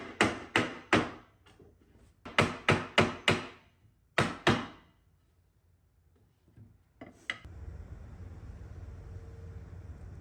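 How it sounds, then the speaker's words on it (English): A hammer taps wooden boards into place on a vintage dresser in quick groups of sharp knocks, several rapid strikes at a time, followed by a shuffle and steady rustling noise. "I'm just going to use a hammer, and I'm just going to hammer them into place"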